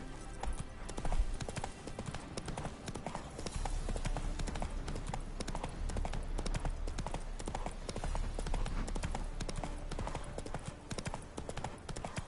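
Roach, Geralt's horse in The Witcher 3, trots with a brisk, even clip-clop of hooves that runs continuously at moderate volume over a busy game soundscape.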